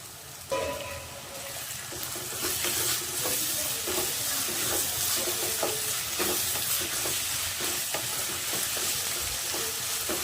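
Generous handful of curry leaves crackles and sizzles in hot oil for a crab pepper gravy, a dense close frying hiss with busy popping and stirring scrapes throughout.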